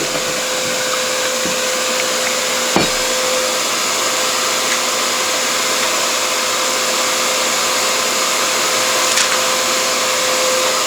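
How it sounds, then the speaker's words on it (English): A workshop dust extractor runs steadily for the whole stretch as a loud, even, close whoosh and hum, with a few faint clicks over it as a router is plugged in for inlay work. Nobody speaks. "I'll turn on the dust extractor, and I'm going to plug in the router."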